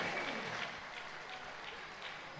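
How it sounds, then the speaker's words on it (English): Steady applause from an audience at a national youth rally celebrating Dominica's 44 years of independence, a dense, even wash of clapping that holds at a moderate level throughout. "Give them a round of applause."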